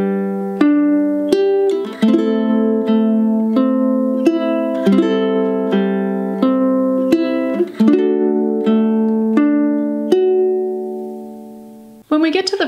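Ukulele picking a steady arpeggio pattern through the opening line of a song, each chord's notes plucked in turn and ringing clearly, played alone with no voice over it.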